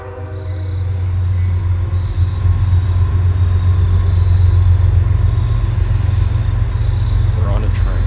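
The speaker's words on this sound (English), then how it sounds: "We're on a train." Steady, loud low rumble from inside a moving train, with a continuous rolling drone of wheels and carriage running throughout.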